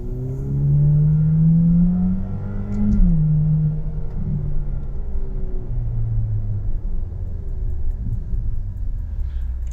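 A Ferrari sports car in race mode revs hard, its engine note climbing steeply and then dropping before settling into a steady, loud rumble as it drives on.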